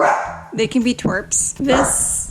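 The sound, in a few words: dogs barking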